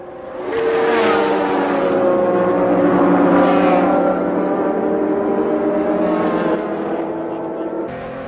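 Lister and Dallara race cars battle at Silverstone in a 2004 Le Mans Endurance Series 1000 km race, engines roaring loudly and continuously with rising and falling revs as they pass close by.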